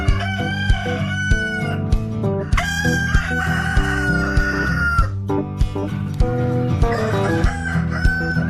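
Backyard poultry chickens cluck steadily while a rooster crows loudly, with a repeated thumping beat and music-like tones mixed in throughout.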